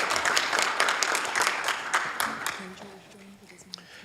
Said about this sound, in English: So let's give the Hayward Art Council a big round of applause.